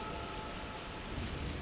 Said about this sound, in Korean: 그러더니 앞을 볼 수 없을 정도의 소나기에 급습당하고 말았습니다